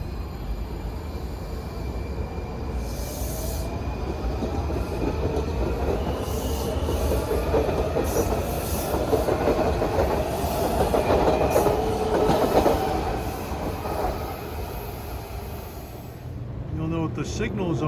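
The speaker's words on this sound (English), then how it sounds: "This Glenmont-bound red line train is made up of early 2000 built breeder cars." A Washington Metro Red Line train of early-2000s Breda cars rolls past near Union Station with a steady rumble and rhythmic wheel clatter, faint squeals rising above it before it fades.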